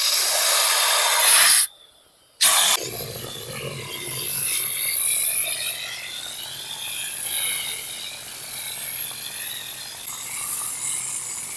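A texture spray gun hisses steadily as it projects plaster onto a wavy wall, a loud airy spray that cuts out briefly near the start and then runs continuously close by.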